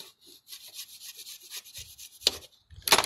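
Cloth insulation on a wire being stripped and peeled away, giving soft rubbing and scraping sounds with a few louder sharp rasps near the end, close and quiet.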